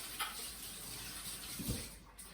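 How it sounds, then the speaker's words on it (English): Hands washed under a running kitchen tap after making bread, a steady soft stream of water with light splashing, close and uninterrupted. "Quickly wash my hands."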